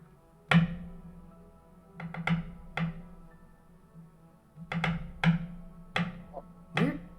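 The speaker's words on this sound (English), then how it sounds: "Weird rhythmic tapping sound." Irregular rhythmic tapping and knocking from a dragon egg, like rock striking ice, comes in clusters of sharp hits with short gaps between them, fairly close and with no talk over it.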